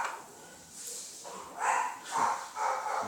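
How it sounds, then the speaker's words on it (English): Several dogs bark faintly in the distance, a few short muffled barks coming in quick succession against quiet room noise. "My dogs just heard the cat."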